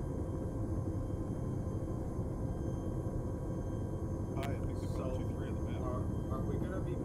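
An aircraft comes in to land at a landing zone in a military video game, a continuous loud engine roar that fills the whole stretch, with radio chatter and voices over it.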